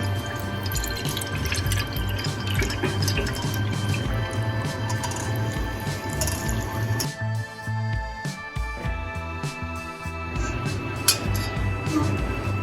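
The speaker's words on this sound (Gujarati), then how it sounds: "બીજું એક બાઉલ લેશું અને તેમાં ગળણીના મદદથી જે આપણે શરબત બનાવેલું છે તે ગાળી લેશું" Fennel and basil seed sherbet is strained through a strainer into a bowl, giving steady, close dripping and trickling of liquid that runs continuously and thins out toward the end, with no talking.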